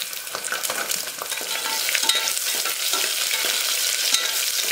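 Small shallots hit hot oil already crackling with mustard seeds and chana dal in a pan, giving a loud, steady sizzle and spatter with light stirring scrapes throughout.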